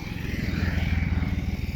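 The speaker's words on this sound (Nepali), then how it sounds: "एउटा बाइक जाँदैछ।" A motorbike throbs close by on a hillside road in southern Lalitpur, its engine firing in a fast, even pulse that grows louder and then eases slightly as it passes.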